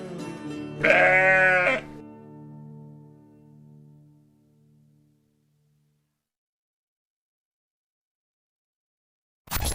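A grey Finn sheep gives one loud, wavering bleat that lasts about a second. Its tone fades slowly through a long echoing tail, and a short burst of sound cuts in at the very end.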